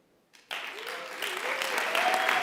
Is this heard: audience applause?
yes